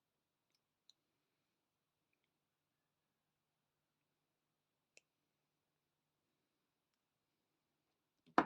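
Cutters trim the end of an earring wire, giving a few faint, sharp clicks spaced apart in near silence, followed by a louder snip at the end.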